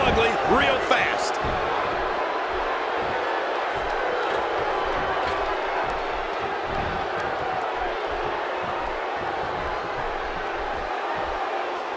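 A roaring arena crowd cheers steadily through a wrestling match in the WWE 2K16 video game, forming a loud, continuous wash of noise with faint thuds underneath.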